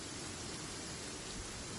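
Steady rain falling in a video game, a dense, even hiss of drops that stays constant and fairly quiet with no voices over it.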